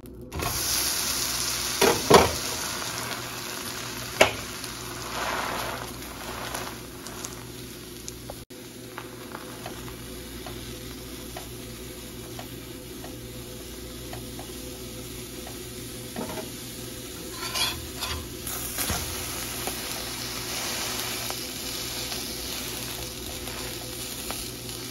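A buttered whole wheat bread sandwich toasts on a tava griddle, sizzling softly and steadily up close, with a few scraping and shuffling sounds early on and no voices.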